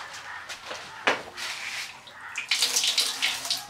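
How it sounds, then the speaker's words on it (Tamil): Water gushes steadily from a tap, a close, hissing splash with a few clunks and knocks around it. "தண்ணி வருது."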